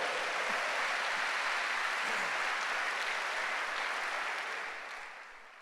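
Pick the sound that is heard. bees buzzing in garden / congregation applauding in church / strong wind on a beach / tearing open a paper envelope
congregation applauding in church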